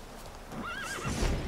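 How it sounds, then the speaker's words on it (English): Wild horses in The Witcher 3 give one short neigh with a wavering whinny, heard over soft game ambience and a low thump near the end. "Wild horses."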